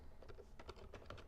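Code typed on a computer keyboard gives a quick, uneven run of faint key clicks, with no talking.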